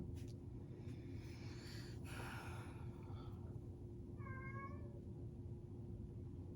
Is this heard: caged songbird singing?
no